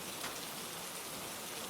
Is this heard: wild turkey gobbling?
no